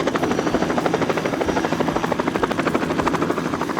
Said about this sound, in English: I wanted to see helicopters.